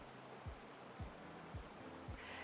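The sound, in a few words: creek rushing in the background on a Canadian property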